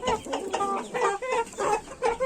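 Ornamental chickens and roosters cluck in a coop close to the listener, a run of short, clucking bursts in irregular rhythm, with no talking.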